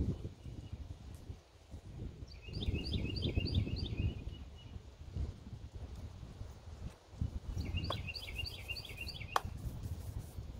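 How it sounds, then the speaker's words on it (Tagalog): Two bursts of quick, high bird chirps ring out over a steady outdoor rumble with rustling and light thumps, at a garden harvesting red radish and pak choi. "Narinig nyo ba yung mga ibon?"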